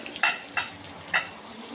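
Oil sizzles steadily as bitter gourd deep fries, broken by three sharp clinks of a utensil stirring in the pan.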